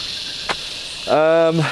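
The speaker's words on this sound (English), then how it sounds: "The cicadas are out, and they're whatever cicadas do." A steady, high-pitched drone of cicadas at dusk hums throughout, with a short voice briefly heard near the end.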